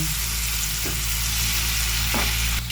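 Dried fish (tuyo) frying in a pan with chili, a steady loud sizzle throughout with a few brief spatters and a louder burst near the end, no voices.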